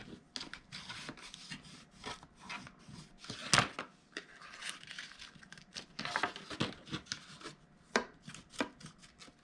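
Paper box flaps for a Valentine's craft are folded in and pressed smooth with a bone folder, making quiet, close, irregular taps, rubs and crinkles.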